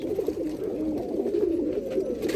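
Pigeons kept as a breeding pair coo steadily and close by, a continuous low throaty burbling murmur running through the whole stretch with no talking.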